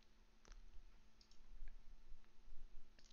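Mouse clicks on a computer while editing registry settings for a Logitech G923 racing wheel, a few faint, sharp clicks spread across a quiet room with low background hum.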